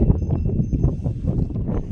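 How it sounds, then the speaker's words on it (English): Low, rumbling gusts of wind at Mount Kailash buffet the microphone in uneven surges, a steady roar with no voices. "I'm actually sitting behind this rock because it's too windy"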